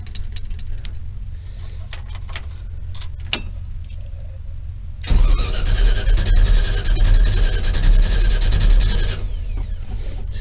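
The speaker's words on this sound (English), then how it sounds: "This is a real cold start. And this has no choke." Cold start of a 1972 Chevy or 1968 Cadillac engine with no choke: after a few seconds of quiet clicks, a loud cranking roar surges for about four seconds, then cuts off.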